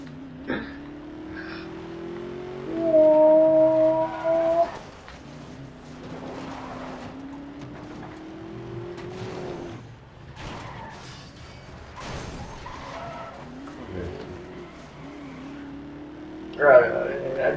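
Race cars in Need For Speed: Most Wanted rev and accelerate steadily through a multiplayer session, engine drone rising in pitch, with a brief louder surge of tire skid and mechanical clatter; people talk over the game.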